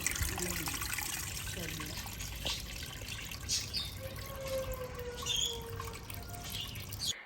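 A pump in a garden fish pond with aquaponics circulates water, giving a soft continuous trickle with scattered splashes and drips at low volume.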